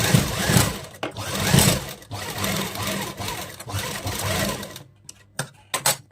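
A sewing machine hums loudly in close, continuous runs while stitching an Afghani salwar, then stops, leaving a few short clicks and handling sounds near the end.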